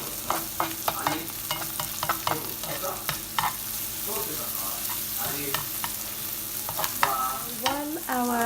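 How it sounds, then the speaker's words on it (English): Omelette mix cooks in a pan, making a constant sizzle broken by irregular scraping and stirring clicks from a utensil, close up and with no talking. "While our omelette mix is cooking away"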